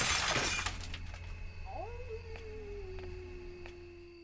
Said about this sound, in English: I heard glass break it.